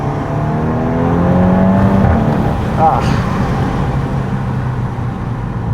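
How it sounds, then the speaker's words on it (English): A 2014 Volkswagen Scirocco R's exhaust rises in pitch as it accelerates hard, a loud, throaty engine note up close, briefly dipping before continuing to roar. "I'm so in love with the tone that you get out of this exhaust"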